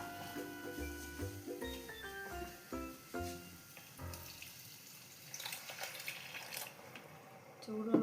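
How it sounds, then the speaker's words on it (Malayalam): Hot water is poured into a pan of prawn roast, giving soft, uneven splashing and trickling, with a few faint knocks early on and brief quiet voices in the background. "ചൂടുവെള്ളമാണ് ഒഴിച്ചത്."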